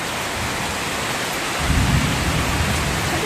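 Heavy rain pours steadily over a rural home as a dark storm settles in, with a deep rumble of thunder swelling in partway through and rolling on beneath the constant downpour.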